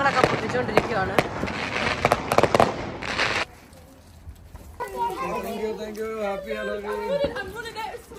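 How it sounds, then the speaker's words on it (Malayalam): Firecrackers burst on Halloween night in Ireland, a dense run of sharp, loud cracks for about three seconds, followed by children's voices and chatter. "നല്ല പടക്കങ്ങളൊക്കെ പൊട്ടിച്ചുകൊണ്ടിരിക്കുകയാണ്."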